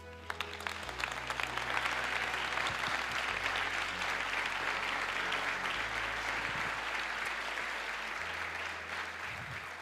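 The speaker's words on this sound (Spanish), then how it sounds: "Un fuerte aplauso." A large audience gives a loud, sustained burst of applause on a stage at a university presentation event, steady clapping filling the whole stretch without talk over it.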